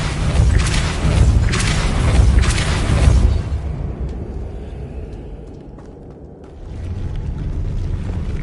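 A Depulso spell in a Harry Potter video game fires off in heavy booming bursts, a few loud thuds in quick succession followed by a fading rumble and a softer swell.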